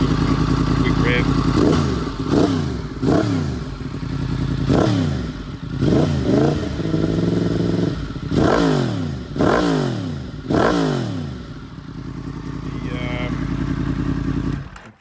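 Yamaha MT-10 motorcycle with an Akrapovic slip-on exhaust, engine warmed up, blipped through a string of about nine quick, sharp revs that rise and fall over a steady idle, loud and close.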